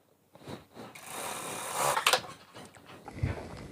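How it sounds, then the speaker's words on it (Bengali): A sewing machine stitches fabric while half pants are being sewn, running in a steady mechanical whir with brief bursts and handling clatter, fairly close and without speech. "মেশিনের ফিটটা উঁচা করার পর কাপড়টা এদিকে ঘুরিয়ে ধরে এইভাবে সেলাইটা দিতে হবে।"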